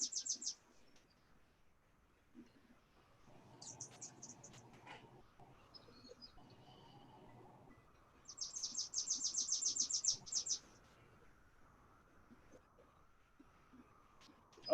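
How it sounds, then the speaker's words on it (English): Small birds chirp in quick bursts of high, rapid trills through an open window, some close and fairly loud, while a low indoor hum fills the gaps between them. "Always sounds like Roger has a bird on his shoulder, eh? When the window's open, it's like they're right there."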